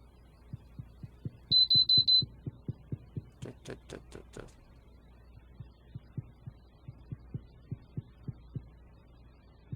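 Regular low double thumps like a heartbeat pulse steadily throughout, joined briefly by a high electronic beeping and a short burst of loud ticking in a horror game.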